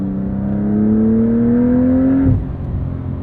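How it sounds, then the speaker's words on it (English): 2025 Porsche 911 Carrera S 992.2 with a twin-turbo 3-liter engine and PDK gearbox revving up: a close, loud engine note climbs steadily in pitch for about two seconds, then drops sharply as the revs fall away. "the sound of this 3-liter is really growing on me"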